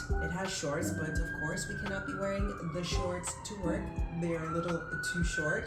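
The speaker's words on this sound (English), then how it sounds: "a siren decides that it needs to come driving by my neighborhood" An emergency siren drives past through a residential neighborhood, its wailing tone steady and gliding slowly up and down across the whole stretch, loud and close, with a person talking continuously over it.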